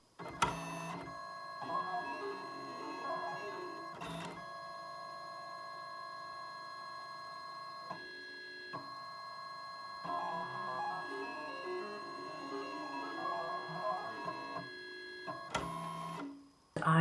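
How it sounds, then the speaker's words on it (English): A Siser Juliet cutting machine slices a letter from foam clay with a steady mechanical whir and hum, broken by sharp clicks and short motor shifts, close and continuous. "I've got a little clip of video of the machine actually cutting this letter"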